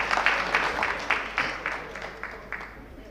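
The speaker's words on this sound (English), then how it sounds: "Give her a clap as she takes the mic." Applause from a crowd at a National Assembly members' induction, steady rapid clapping at moderate volume that gradually fades over a few seconds.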